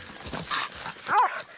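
A police dog with the New Zealand Police dog squad gives a short close bark-like yelp followed by a whimpering whine, amid outdoor rustle during handler training.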